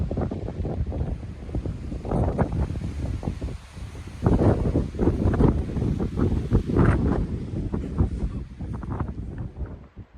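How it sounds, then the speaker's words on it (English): Gusty wind buffets the microphone on a drizzly, cold mountain top along the Appalachian Trail in the 100 Mile Wilderness, rumbling in uneven low bursts that rise and fall throughout, with no voices. "drizzling on and off, and pretty breezy"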